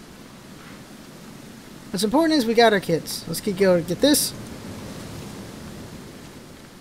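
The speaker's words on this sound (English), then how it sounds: "It's raining." Steady broadband hiss of rain in a video game, continuous and even throughout, with someone talking over the middle stretch.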